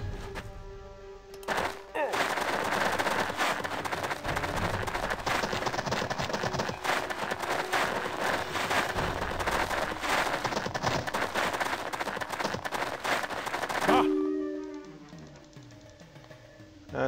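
Sustained gunfire in the tactical game Jagged Alliance 2, loud rapid shots and automatic bursts running unbroken for about twelve seconds before cutting off abruptly, with quiet game sounds on either side.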